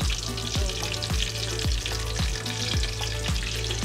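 King crab pieces coated in cornstarch fry in hot oil, a steady dense sizzle with regular soft stirring knocks roughly every half second, close and continuous with no voices.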